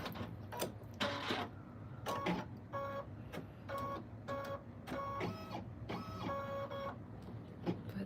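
An embroidery machine stitching at high speed, a steady fast mechanical whir with rhythmic tonal bursts recurring about every second, fairly close and alone.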